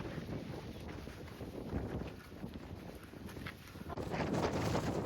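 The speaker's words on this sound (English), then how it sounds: "It's a windy one. Very windy." Strong wind on the Pen y Fan Horseshoe ridge in the Brecon Beacons buffets the microphone in a steady, rumbling roar that swells louder near the end, with no talking.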